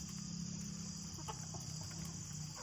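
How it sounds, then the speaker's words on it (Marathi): Chickens in a shed at night, soft low clucking and murmuring at a distance under a steady background hum, with a few faint brief calls. "आपल्या कोंबड्या शक्यतो सगळ्या वरती बसलेल्या असतात"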